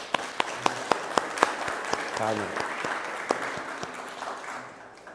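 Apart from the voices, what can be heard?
church congregation applauding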